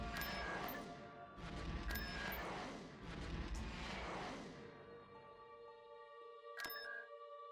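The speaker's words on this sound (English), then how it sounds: "You deploy them, they just launch mortars" A mortar team firing mortars in the strategy game Stargate at War, heard as several sharp thumping launches and booms in quick succession, followed by a quieter lingering tail and one more sharp crack near the end.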